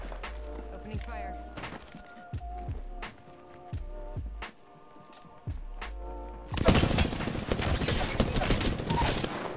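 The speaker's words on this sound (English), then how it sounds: "Opening fire." Gunfire in a duos shooter video game, first as isolated shots over game music and effects, then a loud sustained burst of rapid fire in the final seconds.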